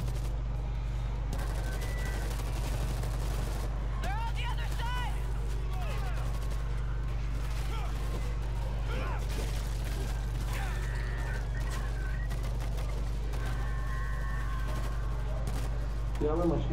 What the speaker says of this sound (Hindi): और अब चलो मशीन गन पे।